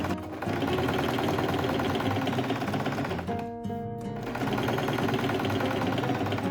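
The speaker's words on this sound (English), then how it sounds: "Sew the sides and bottom in place at 5 mm from the edge" Sewing machine stitching the lining of a quilted tote bag pocket, running at a fast steady pace almost throughout with a brief slowdown and short pause midway before resuming.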